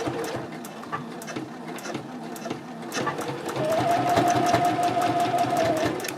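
A sewing machine backstitches a fabric pouch, with short start-stop bursts of stitching that give way to a longer, louder continuous run close by.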